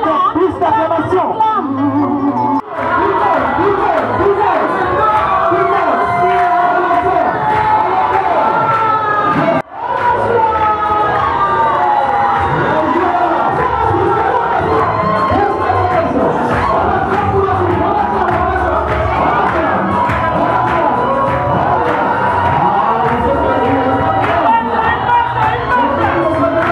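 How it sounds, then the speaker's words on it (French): Wedding party guests cheer and shout loudly and continuously in a dense crowd roar, with a brief dip near the start and another around ten seconds, then sustained acclaim for the couple. "On acclame, on acclame, plus d'acclamation."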